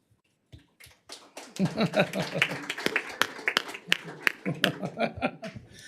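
Applause starts up at a town council meeting, a few scattered claps building into a burst of clapping mixed with laughter and chatter from the room.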